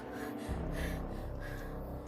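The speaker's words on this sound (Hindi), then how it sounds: "एक युवती उनकी खाट पर बैठी बुरी तरह हाँफ रही" A young woman sitting on a cot in an animated Hindi horror story pants heavily, with rapid, loud, ragged breaths heard up close and continuing without pause.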